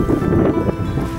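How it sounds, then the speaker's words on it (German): Strong gusting wind buffets the microphone high on Mount Ruapehu in Tongariro National Park, New Zealand, a continuous loud low roar filling the short moment with no voices. "Auf der Höhe des Mount Huapehu ist der Wind fast unerträglich"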